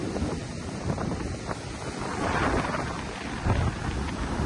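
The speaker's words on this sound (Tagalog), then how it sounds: "Yan yung mga alon guys" Strong typhoon wind buffets the microphone over a constant rumble of waves, with gusts swelling and fading throughout.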